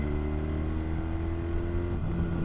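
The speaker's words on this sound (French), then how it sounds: "La moto immédiatement, elle downshift pour permettre justement d'aller chercher le rapport inférieur et du coup d'aller accélérer." A BMW motorcycle with an automatic clutch downshifts and accelerates on a highway, giving a steady loud engine drone with a low rumble and a slight shift in pitch near the end.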